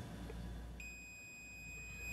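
Multimeter in continuity mode beeping while probing the ground line of an RGB SCART cable, a single thin steady electronic tone that starts partway in and holds, faint over quiet room noise.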